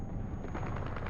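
Rapid machine gun fire in War Thunder, a dense continuous burst of shots heard at a distance and fairly faint.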